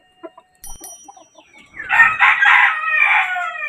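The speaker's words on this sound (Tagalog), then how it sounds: "Malaki kasing manok to eh." A Kelso gamefowl rooster, seven months old, gives one loud, close crow after a few soft clucks and scattered small sounds.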